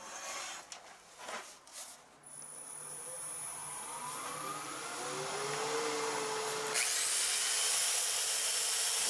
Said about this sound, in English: so all nicely sanded, right down to 600 grit.